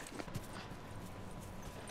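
Horse hooves clip-clop steadily in The Last of Us video game, a fairly quiet, continuous patter of steps over low background game ambience, with no talking.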